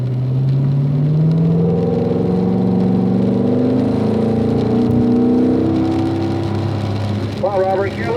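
Race car engine droning and rising in pitch as it accelerates on a rain-soaked track, loud and steady with a whirring tone and water hiss beneath.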